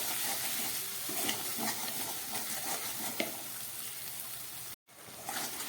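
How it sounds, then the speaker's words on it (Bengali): Tomatoes frying with salt in a pan, giving a steady close sizzle and hiss with faint stirring scrapes and a brief dropout near the end. "নুন দেবার পরে টমেটোটা কয়েক সেকেন্ড ভেজে নিলাম।"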